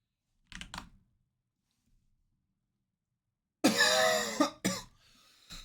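A person gives a short cough, then after a stretch of silence a louder, harsher burst of coughing follows, with one final sharp cough at the end.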